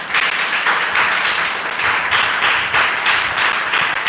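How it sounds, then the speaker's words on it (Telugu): A crowd of listeners at a spiritual talk claps steadily together, a dense, loud, continuous wash of hand claps with faint rhythmic pulsing, no voices. "అందరు ఇక్కడే ఉన్నారా? చప్పట్లు కొట్టండి."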